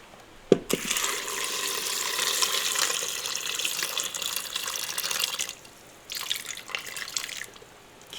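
Tap water runs steadily into a cooking pot being filled for pasta, a continuous close hiss with a short break near the end and a brief drip or clink at the start.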